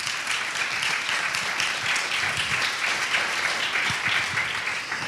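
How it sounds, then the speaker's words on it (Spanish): Audience at a talk in Valencia gives a strong round of applause, dense continuous clapping with some distinct nearby claps standing out, steady and fairly loud throughout. "para quienes pido un fuerte aplauso."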